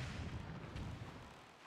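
Cannon fire in The Legend of Zelda: The Wind Waker HD, a dense rumbling barrage of booms and bursts filling the whole stretch at steady loudness, with no talk over it.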